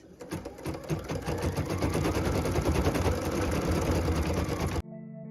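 Home embroidery sewing machine stitching a starburst design onto a Christmas stocking ornament, a steady fast mechanical whir with rapid needle chatter, close and continuous before stopping abruptly near the end.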